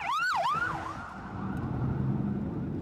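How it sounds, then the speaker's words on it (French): Emergency vehicle siren wailing through the streets of Beirut's southern suburbs after bombardments, a loud rising-and-falling tone sweeping for the first second, then sustained and fading into dense city traffic rumble. "Depuis fin septembre, la capitale libanaise vit au rythme des sirènes."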